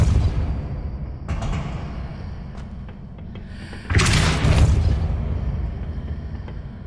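A heavy stone pillar in Hogwarts Legacy is shoved by a Depulso spell. A low scraping rumble gives way to a loud grinding surge of stone dragging across stone, which then settles into a fading rumble.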